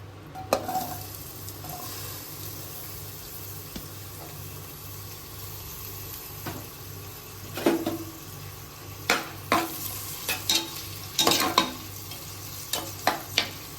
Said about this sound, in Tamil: 2 பெரிய வெங்காயமும் ஒரு பச்சை மிளகாய் கட் பண்ணி வச்சுருக்கேன், அதை இப்போ போட்டுக்கிறேன்.